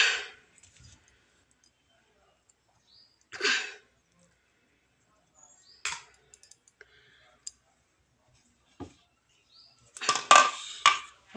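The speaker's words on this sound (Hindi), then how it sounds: "वहाँ पे बर्तन निकालती हूँ।" Steel utensils and dishes are lifted out in a home kitchen, giving scattered sharp clinks and clatters with long quiet gaps and a louder cluster of clanging near the end.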